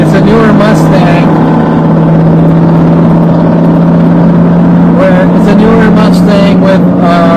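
A newer Ford Mustang with a modified exhaust rumbles loudly with a steady, droning engine note, rising slightly in places, while voices murmur over it.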